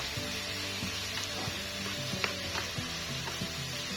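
Minced pork with shrimp paste sizzles and crackles in a hot pan while being stir-fried, with scattered clinks and scrapes of a utensil against the pan over a steady hiss.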